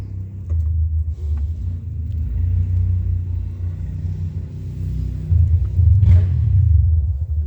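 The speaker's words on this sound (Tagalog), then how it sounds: "May nagmumotor pa ng ganyan." Motorcycle riding past through snow during a snowstorm, a deep low rumble that swells and fades, loud and close, with no talk.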